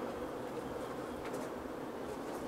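Honeybees droning around a beehive colony in Cumbria, a soft, steady buzz that carries on without pause and with no voices.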